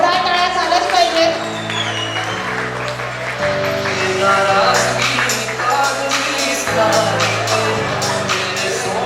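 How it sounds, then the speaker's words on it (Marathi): A sangeet crowd applauds loudly. The clapping runs under loud music with a steady pulsing beat, and voices speak over it. "जोरदार टाळ्या झालंच पाहिजे।"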